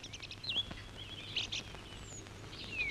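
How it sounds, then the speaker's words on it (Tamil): Sparrows chirp in short, scattered bursts of high tweets at moderate distance in a film scene, faint and thin over a quiet background. "குருவிகளோட சத்தம்"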